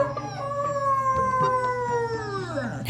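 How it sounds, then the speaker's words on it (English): A dog left home alone howls in one long, loud, mournful note that slides slowly downward, close and continuous. "The howling usually starts at about 30 minutes in,"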